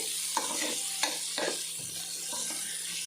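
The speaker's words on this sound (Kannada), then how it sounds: "ನಾನು ತುಪ್ಪನೇ ಪಾಡೊಂದು ಫ್ರೈ ಮಲ್ತೊಂದುಲ್ಲೆ." Masala and onions frying in ghee for a hotel-style paneer biryani, with a continuous close sizzle. Three or four distinct spoon scrapes come as it is stirred.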